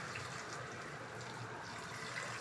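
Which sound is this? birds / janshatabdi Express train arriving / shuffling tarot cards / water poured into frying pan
water poured into frying pan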